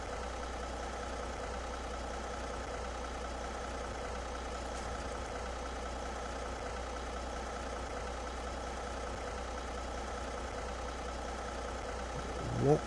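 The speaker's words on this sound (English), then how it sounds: "Engine's running." A truck engine idling steadily in Snowrunner, a continuous low, even drone that holds at the same level for the whole stretch, with a brief bump at the very end.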